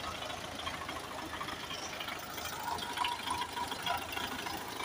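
A Belarus tractor engine running while it pumps air into tyres, a steady mid-pitched idling rumble with faint rattle and vibration, continuous and fairly close throughout.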